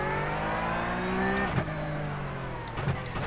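Porsche 911 Cup car in the iRacing sim: the engine drones at steady high revs, then drops sharply and climbs again as it launches, with a loud continuous mechanical whine.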